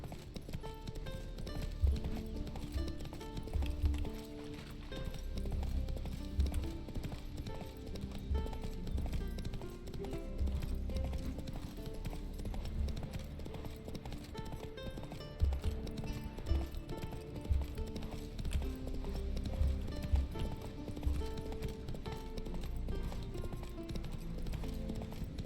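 Roach the horse gallops in The Witcher 3 with rapid rhythmic hoof clip-clops over a low rumble, steady and continuous under background music, with faint speech at moments.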